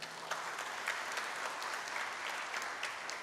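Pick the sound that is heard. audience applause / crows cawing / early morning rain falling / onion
audience applause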